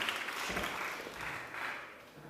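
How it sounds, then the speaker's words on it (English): A crowd applauds a competition podium at a climbing event, a steady wash of clapping at moderate volume that fades slightly toward the end. "let's give them one more round of applause"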